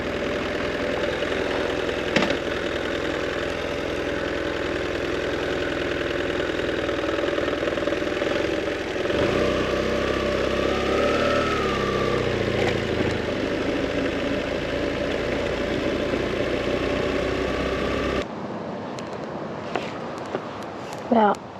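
A motorcycle idles in a steady low rumble after being dropped, running continuously and loud before cutting off near the end, leaving quieter ticking sounds.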